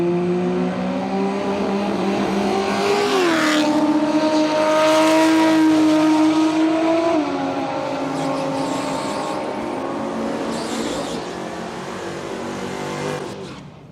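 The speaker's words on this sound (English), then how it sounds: "I know it's really hard when the cars are doing burnouts" Drag race cars do burnouts at Willowbank Raceway, a loud sustained engine roar with a pitch rise and falling revs, tyre noise mixed in, easing off toward the end.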